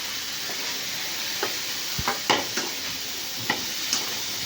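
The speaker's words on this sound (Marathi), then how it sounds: "आपण घालून घेऊया फ्लावर व चना डाळ आणि हे छान मिक्स करून घेऊया" Cauliflower and chana dal stirred in a sizzling pan, with a constant frying hiss and several sharp scrapes and clinks of the spoon against the metal.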